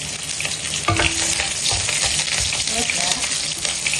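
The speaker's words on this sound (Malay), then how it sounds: "Lepas tumis ni serai." Lemongrass sautéing in hot oil sizzles loudly and evenly, with repeated stirring scrapes and a clank. A brief voice speaks over it.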